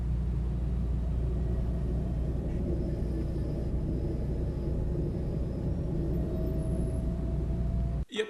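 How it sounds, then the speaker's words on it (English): Toyota Supra driving with a stuck rear brake caliper: a continuous low rumbling drone of road and drivetrain noise, steady and fairly loud throughout, cut off by a short thump at the end. "I got myself a stuck brake caliper"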